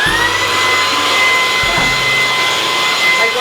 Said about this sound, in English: So when you're vacuuming, a light turns on.